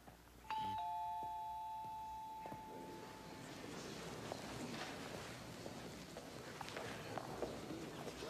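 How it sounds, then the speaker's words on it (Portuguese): A doorbell sounds once with a clear two-tone chime that rings out and fades, followed by soft footsteps and faint room ambience. "Vitor Hugo, a campainha"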